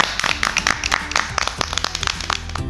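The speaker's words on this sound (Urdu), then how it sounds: "سب نے تالیاں بجائیں" A crowd of animal students claps in a jungle school children's story, a dense patter of applause that continues for the whole stretch, steady and fairly close.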